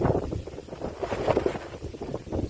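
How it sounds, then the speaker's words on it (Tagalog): Strong wind gusts rumble and roar against the microphone at a house on a mountainside, swelling and easing in waves, with no rain. "yun ang sinasabi ko na medyo malakas yung hangin dito."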